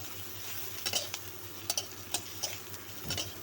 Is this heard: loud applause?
no